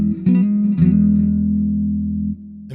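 A clean electric guitar tone through a Positive Grid Spark amp: a couple of quick plucked attacks, then a sustained chord ringing steadily and decaying before a fresh pick at the end.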